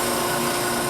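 A power carving tool whines continuously and loudly as it cuts a finger notch into a wooden scoop, a steady high-speed grinding with no pauses.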